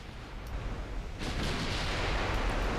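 Battleship guns fire shells in a naval strategy game, a dense rumbling barrage of distant booms that thickens and grows louder partway through, forming a continuous roar.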